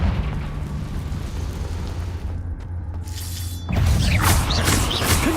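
Confringo spell blasts in the video game Hogwarts Legacy, inside a cave: a steady rumbling bed breaks into a louder crackling, bursting explosion near the end, with a brief quieter gap just before it.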